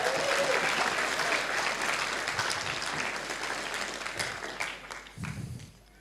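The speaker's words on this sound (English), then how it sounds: "Can you give Harry a clap?" Audience clapping for Harry at a church talk, steady and dense at first, then gradually thinning and fading out with a few scattered claps near the end.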